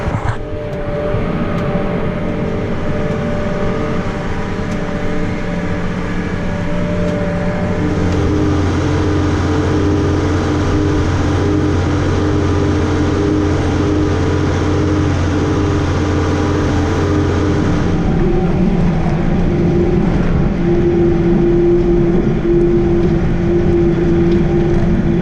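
A tractor towing a farm disc across a field makes a continuous heavy, low engine drone for about 25 seconds, loud and close, with faint clattering from the implement and a slight change in tone partway through.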